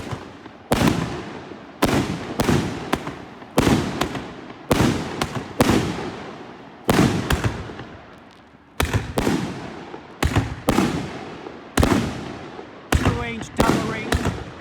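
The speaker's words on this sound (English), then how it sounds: "that's a 112 shot cake mixed caliber" A 112-shot mixed-caliber 30/38/50mm fireworks cake fires outdoors as a rapid string of loud, sharp booming reports in uneven clusters, each shot's crackling echo decaying before the next volley across about fifteen seconds.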